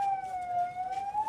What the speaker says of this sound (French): Sirènes retentissantes, les ambulances évacuent les victimes à l'hôpital An-Najjar de Rafah.